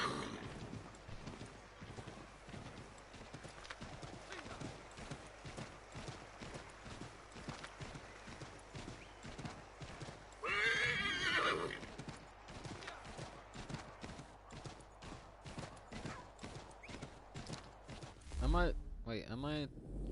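Rhythmic clip-clop of horse hooves in the video game Assassin's Creed 3, trotting steadily throughout, with a brief whinny partway through and a louder burst near the end.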